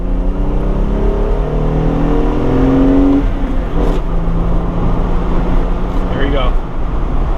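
A 2020 Jeep Wrangler Unlimited with a soft top accelerating hard from a standstill toward 60 mph, its engine note rising in steady pitch over continuous road and wind noise inside the cabin, with a brief change in tone mid-run as it shifts.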